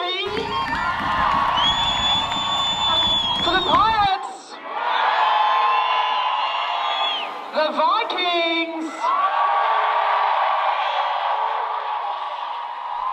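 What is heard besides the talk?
crowd cheering and whooping to vote for a team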